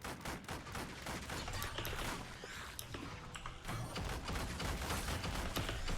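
Turret fire during a Wolcen: Lords of Mayhem action RPG fight, a faint, dense run of rapid shots and impacts mixed with other combat clatter throughout.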